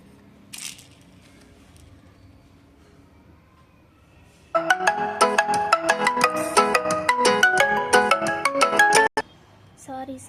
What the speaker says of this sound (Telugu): సారీ కాల్స్ వస్తున్నాయి.